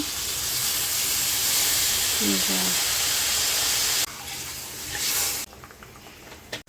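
Spices sizzling in hot oil while being sautéed for a Bengali fish curry, a steady loud hiss that drops in level partway through, with a voice briefly heard over it.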